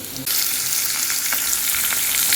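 Chopped potatoes fry on low heat with onion and garlic in a pan, a dense continuous close sizzle that swells after a brief quieter start, with faint stirring clicks underneath.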